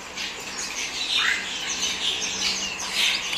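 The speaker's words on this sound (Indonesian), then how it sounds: "Burung baru bos ya masuk di lapak, namanya cendet monyet" A cendet monyet shrike calls amid the chatter of a busy bird shop, its sharp chirps and squawks repeating moderately loud over a dense backdrop of other birds.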